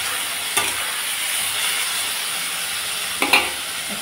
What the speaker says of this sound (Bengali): 5 মিনিটের মতো সবজিটাকে ভেজে নিলাম।